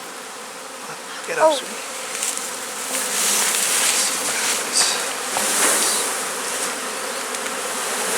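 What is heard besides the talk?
bees swarming at the bottom of a hive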